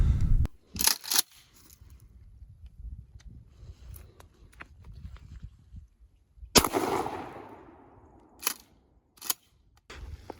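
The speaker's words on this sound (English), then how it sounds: "we're only at 15 yards and we're shooting birdshot" A Remington 870 or Maverick 88 pump shotgun fires birdshot at 15 yards outdoors. Several sharp, loud bangs come at irregular intervals, one trailing a long ringing decay, with quieter handling noises between them.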